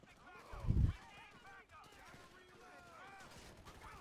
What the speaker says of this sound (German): Kollegen, Waffen raus und schießen!